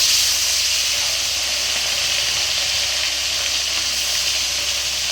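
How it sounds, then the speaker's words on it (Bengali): Fish fries in hot oil in a wok, a steady dense sizzle and hiss that runs evenly and fairly loud throughout, with no talking. "এখানে তেল কিন্তু গরম হয়ে গেছে, আমি কিছু মাছের ভিতরে ছেড়ে দেই ভাজার জন্য।"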